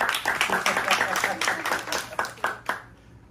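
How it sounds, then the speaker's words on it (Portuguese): An audience at a poetry reading gives a round of applause, clustered claps close and lively at first, then thinning to a few scattered hand claps before fading out, with a voice heard briefly. "Arthur, salva de palmas, bora!"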